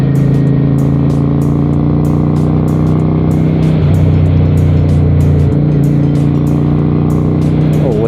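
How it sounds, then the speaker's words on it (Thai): Heavy road traffic heard from a moving 1992 Honda Shadow 400 cruiser motorcycle, its loud steady engine drone dominating, with a gear change midway and passing vehicles blending in throughout. "รถเยอะอีกแล้วรถเยอะทุกวันเลย"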